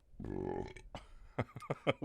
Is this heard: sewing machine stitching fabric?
no